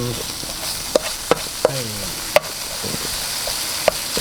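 Tofu stir-fries over a high flame in a wok, with a continuous sizzling hiss punctuated by several sharp clanks of a utensil against the pan, no voices.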